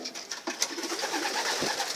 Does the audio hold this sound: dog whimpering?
no